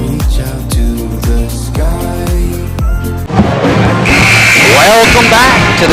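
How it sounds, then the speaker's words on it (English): Loud live band music fills a big echoing school gym at a basketball game, pounding drums and brass-like tones, with a crowd murmuring underneath throughout. "it just changes the atmosphere when you have a live band"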